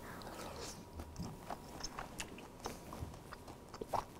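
Close, quiet chewing of a bite of pan-cooked steak, soft wet mastication with small irregular clicks and squelches repeating over a few seconds, no talking.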